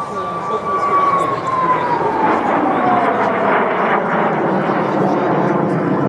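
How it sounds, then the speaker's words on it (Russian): L-29 jets fly over an air show in Kharkiv, a loud, sustained engine roar with a descending whine as the aircraft passes, while a reporter speaks over it throughout. "Открывают программу самолеты Л-29 в сине-желтых тонах."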